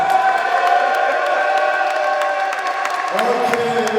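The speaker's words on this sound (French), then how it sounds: "Faites du bruit pour Mathéo s'il vous plaît." A crowd at a BallNRise tour event in Le Mans cheers and whoops for Mathéo, a dense sustained roar of voices with scattered claps, a loud announcer's voice over it toward the end.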